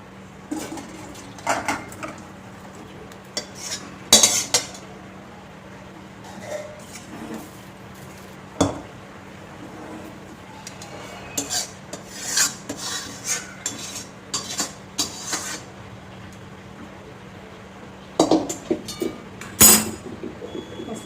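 A ladle scrapes and clinks against a metal pot while boal fish curry is served out, making sporadic metallic taps and scrapes over a steady low hum, close and fairly quiet.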